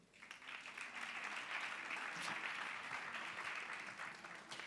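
An audience applauds nominees at the Gaudí film awards nominations reading, a steady wash of many hands clapping from start to finish at an even, moderately loud level.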